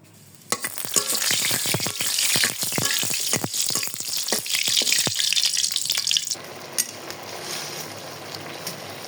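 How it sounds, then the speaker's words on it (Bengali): Kumro bori lentil dumplings fry in hot oil with crackling, popping sizzle and scattered sharp spatters, then ease into a steadier, softer hiss after a few seconds. "এখন এই যে কুমড়ি বড়িটা ভেজে নিব তেলে"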